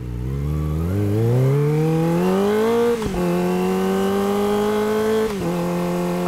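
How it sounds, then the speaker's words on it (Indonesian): A Kawasaki ZX-25R motorcycle with an aftermarket exhaust revs up alone and loud, the engine note climbing steadily with two brief dips as it holds high revs for several seconds. "Kasih tahu apakah kalian suka suara knalpot ini atau bagaimana"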